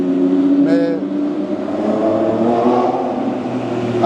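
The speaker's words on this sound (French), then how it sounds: "on retrouve quand même le bruit du V12 de l'Aventador" Lamborghini Aventador hybrid V12 revving loudly nearby in Monaco streets, a brief sharp blip early on followed by a sustained throaty drone that swells again toward the end.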